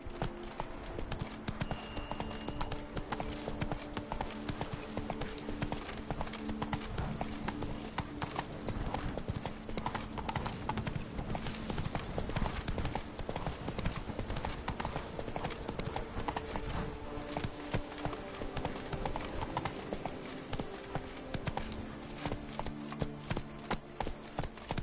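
Horse hooves gallop in a steady, rapid clip-clop rhythm throughout in The Witcher 3 video game, loud and continuous over dense game ambience and music, with an occasional faint whinny.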